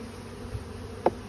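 Honeybees at a hive, with foragers bringing in yellow and orange pollen, keep up a steady close buzzing drone throughout, with one brief louder buzz from a bee passing near.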